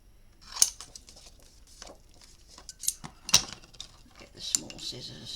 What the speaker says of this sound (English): Get the small scissors.